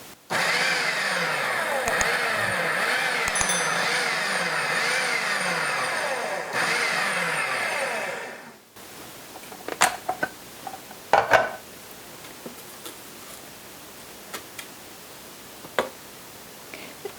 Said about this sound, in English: we're simply going to pulse this in the food processor until we get a coarse chop on our cranberry